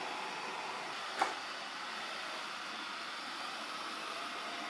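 A Narwal Flow robot vacuum-mop hums steadily as it cleans a floor, edging around an object, with one brief sharp click partway through and no talk.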